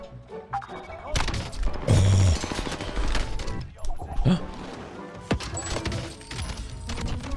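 Rapid automatic gunfire in the video game Warzone on Rebirth Island, dense bursts of shots and impacts with a player talking over the action.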